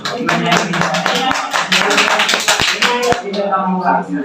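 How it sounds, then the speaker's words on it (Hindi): Students in a classroom lesson on cutting lengths of columns clap loudly: sharp, close hand claps scattered through lively overlapping voices, with the clapping thinning toward the end. "एक बार जोरदार तालियां बजा लो।"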